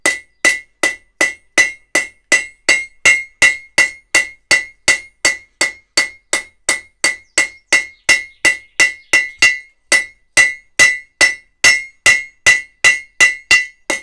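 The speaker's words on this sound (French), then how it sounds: "on peut venir faire ces chanfreins au marteau" Hammer forging chamfers on a horseshoe at the anvil, a long steady run of sharp ringing metallic blows at a regular rhythm, close and loud with a brief pause near the end.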